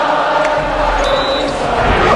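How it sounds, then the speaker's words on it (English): A packed basketball arena crowd roars and chants loudly in a dense wall of voices, with a whistle and a brief high tone cutting through. "Then all of a sudden, the crowd starts chanting."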